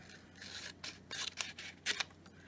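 Scissors snip through a paper strip being trimmed to fit around a round ornament, giving several quick close crisp cuts and rubbing sounds, quiet, with no talking.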